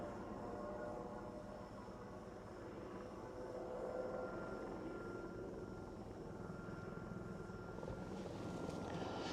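Helicopters flying over a volcanic eruption site in Iceland produce a loud, continuous rotor and engine drone that stays steady throughout, with no voices over it.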